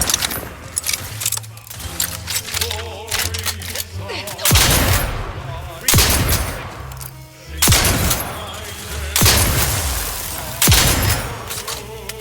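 Gunfire in the video game The Outer Worlds 2: loud, sharp volleys of shots burst out repeatedly over busy combat sounds, about five heavy salvos spaced a second or two apart.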